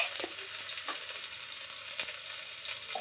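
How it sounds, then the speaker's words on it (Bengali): Grated ginger hits hot oil in a pan for a curry and sizzles steadily, with scattered crackles and pops close up. "এই যে একটু আদা গ্রেট করে রেখেছি, দিয়ে তেলের ওপর দিয়ে"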